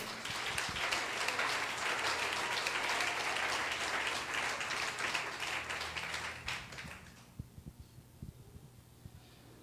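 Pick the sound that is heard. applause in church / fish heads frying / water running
applause in church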